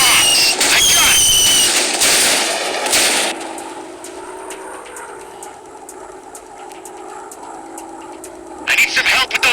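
Bombs explode in a WW2 warplane video game: loud bursts of booming blasts crowd the opening seconds, then a quieter stretch of engine drone and scattered crackling shots, with another burst of blasts at the end.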